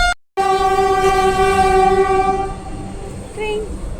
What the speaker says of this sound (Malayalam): ഇതാ വന്ദേ ഭാരത്.